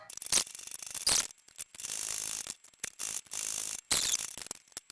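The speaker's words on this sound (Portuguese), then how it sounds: "Vou manter na velocidade baixa a minha costura e vou começar com apenas um retrocesso." A domestic sewing machine stitching synthetic fabric at low speed, giving short mechanical whirring bursts separated by pauses, plus a few sharp clicks, close and clear, no talking.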